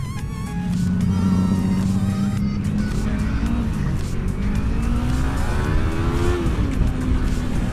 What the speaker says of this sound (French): même quand je suis à 7000 tours, je mets les gaz, ça reprend